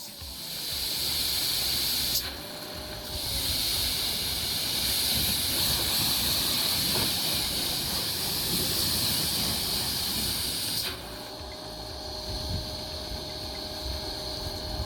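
A low-power pressure washer sprays a car during a contactless wash, giving a steady loud hiss that cuts out briefly twice and resumes. A low background rumble runs beneath it and no one speaks.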